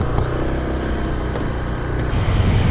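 Honda PCX 125 scooter (2022) pulling away with a steady, quiet engine hum and low rumble throughout, no talk over it.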